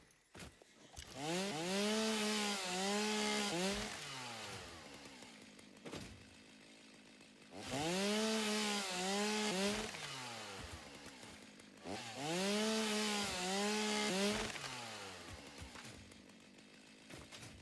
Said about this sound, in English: I need my chainsaw.